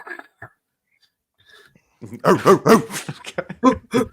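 Several people imitate a dog barking, a burst of loud, rough, voiced yaps coming in quick succession after a couple of near-silent seconds with a few faint sounds.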